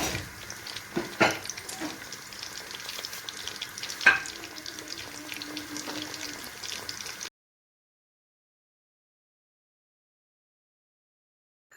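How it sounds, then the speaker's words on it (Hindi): Chicken nuggets fry in preheated oil over medium heat with a continuous close crackle and a few sharp pops, then the sound cuts to silence after about seven seconds. "ऑयल को पहले से गर्म कर लिया था और नगेट्स को दरमियानी आंच पर फ्राई करना है।"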